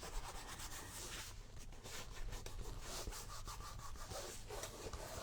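A board rubbed over a rub-on transfer on canvas, making a steady, soft, dry scraping that is close and quiet, with no voices.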